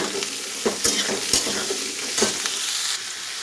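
Vegetables with garlic and chilli, seasoned with turmeric and salt, are stirred in a frying pan, a close steady sizzle broken by several sharp spatula scrapes and clacks.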